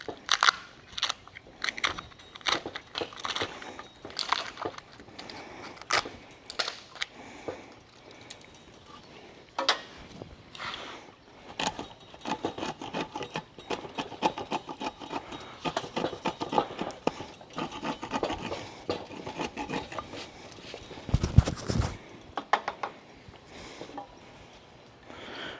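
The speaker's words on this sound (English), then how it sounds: "then we'll just clean it up with the wood chisel" A wood chisel clears out notches cut into wooden uprights for an archery target stand, giving irregular sharp taps, chips and scrapes at close range, with one louder crack near the end.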